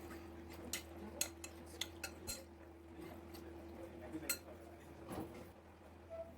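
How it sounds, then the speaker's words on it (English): Chicken pieces being mixed with corn flour and sesame oil for restaurant-style Schezwan chicken: light, scattered clinks and taps of a spoon against a bowl, faint and irregular, with no talking. "Mix well."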